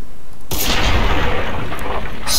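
Gunfire aimed at a bighorn sheep in a post-apocalyptic wasteland video game, one loud booming blast with a long rumbling tail and a second sharp report near the end.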